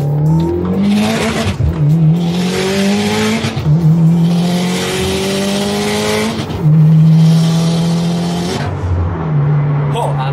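Nissan GT-R on a dyno at a tuning garage, its engine revving hard through several rising pulls, each climbing in pitch and then cutting back, loud and close.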